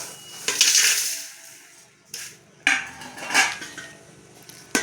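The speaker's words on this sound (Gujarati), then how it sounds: "આ બધો મસાલો છે તે હું બધું તપેલામાં નાખી દઈશ" Spices for a homemade hair oil go into a metal cooking pot, with several close metallic clanks, scrapes and rattles spaced unevenly across a few seconds and no talking.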